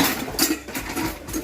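A metal cooking pot, a kaldero, clatters as it is handled in a home, giving a few scattered knocks and scrapes with no talk.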